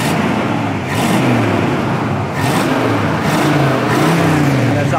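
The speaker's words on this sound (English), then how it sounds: "I'll rev it up a little bit." 1979 Trans Am engine revved up repeatedly, loud close blips rising and falling in pitch in several quick bursts over a rumbling V8 idle, with no talking.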